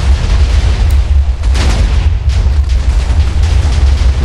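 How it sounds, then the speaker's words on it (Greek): Two TNT blocks detonate in Minecraft, making a loud, continuous, booming roar of blast noise with deep rumble throughout. No speech is heard. "2 TNTs καταφέραμε και βάλαμε,"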